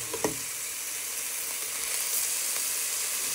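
Thai meatballs frying in a pan give off a steady, even sizzle and hiss that holds for the whole stretch, with a couple of faint clicks near the start and no voices.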